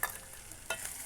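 Spicy tripe curry being stirred in a pan, a quiet scrape at the start and another about two-thirds through over a faint, steady sizzle, alone without talk.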